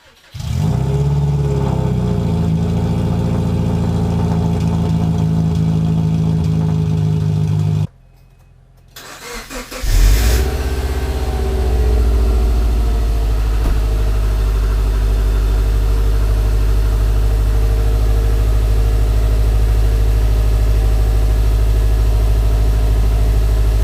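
A car started up and driven after a part replacement: a steady engine drone, a sudden drop to near quiet, then the engine catching again and settling into a loud, steady low rumble as it drives on.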